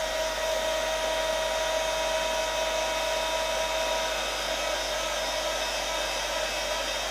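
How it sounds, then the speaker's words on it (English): Hair dryer blowing steadily on an embossing paste layer during a papercraft project, a constant close whirring drone with a faint whine, uninterrupted and with no talking. "So I'll dry that and then we'll add another layer."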